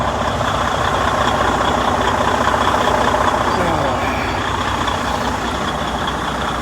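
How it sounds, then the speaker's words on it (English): A Freightliner Cascadia diesel truck engine idles loudly and close by, a steady broadband rumble that never lets up, with someone talking over it. "I hope you can hear me over this loud diesel."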